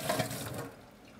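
Water pours from a heavy cooking pot tipped gently over a kitchen sink, a splashing rush that is strongest in the first half-second and then trails off quieter, heard alone with no talking.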